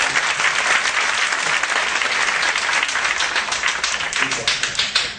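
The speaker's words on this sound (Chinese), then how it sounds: "来，掌声鼓励一下，谢谢。" Dense, steady audience applause at a talk by teacher Yang Zhiwei: many hands clapping continuously at full strength throughout, with no one speaking over it.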